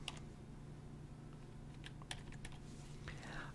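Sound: typing a city name on a computer keyboard

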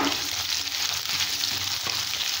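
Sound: onions sautéing in a pan

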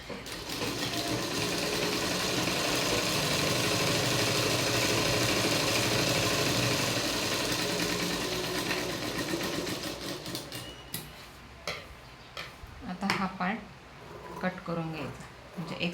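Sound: sewing machine stitching a blouse

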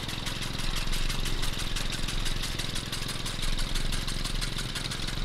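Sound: tractor engine running in a farming video game

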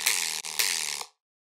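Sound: phaser-processed synth bass in Ableton Live

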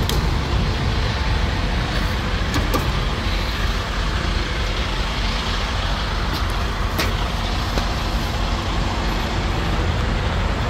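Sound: truck hauling three cars driving down the road

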